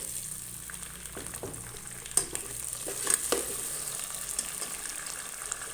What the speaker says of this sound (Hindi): पाँच मिनट जो है आलू को प्याज के साथ कुक करेंगे हम